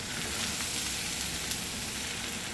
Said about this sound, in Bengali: এটাকে একটু সুন্দর করে 2-1 মিনিট ভেজে নিতে হবে।